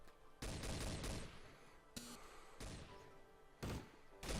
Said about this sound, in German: Hey, hör doch schießen.